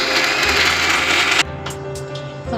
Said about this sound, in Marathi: ते आपण आता ना थोडं थोडं मिक्सरला वाटून घेऊ